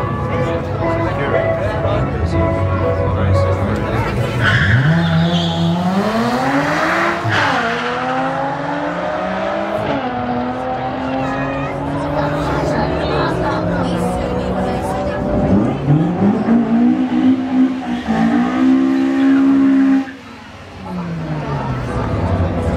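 Street-legal cars drag race side by side at Tarlton International Raceway during a street-to-strip track day, with loud engines revving and rising through the gears, tyres squealing, and the noise staying close and sustained before dropping off sharply near the end.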